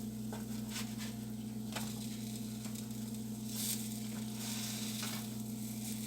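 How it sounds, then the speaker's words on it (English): Banana fritters sizzle steadily in a pan of hot oil, a continuous dense crackle with brief louder pops, close and unbroken for the whole stretch, with a low steady hum beneath. "you just take your time and you just fry them"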